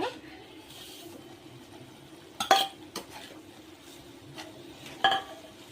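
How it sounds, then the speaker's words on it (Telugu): Kheer with jaggery and milk is stirred in a pot with a metal spoon, giving soft scraping and a few distinct clinks against the rim, quiet and close with no talk. "బాగా మిక్స్ చేస్తాం కదా పాలల్లో కీర్"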